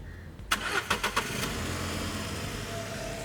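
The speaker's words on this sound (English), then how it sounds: "how quickly the car starts once you crank the engine" A starter cranks in a few quick rhythmic pulses, then the engine catches and runs on in a steady idle, fairly quiet and close.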